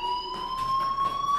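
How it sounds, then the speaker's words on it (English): A fire alarm in the video game Life Is Strange rings with a steady electronic tone and rapid pulsing beeps, continuous and fairly loud throughout. "Hey, do you hear that fire alarm?"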